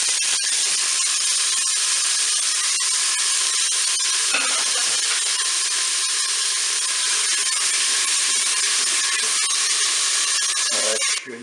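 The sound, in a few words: onions sizzling in hot oil in a Cookeo pot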